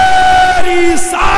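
A crowd at a religious gathering shouting a loud, sustained collective response to the Naara-e-Takbeer chant, voices merging into one long near roar.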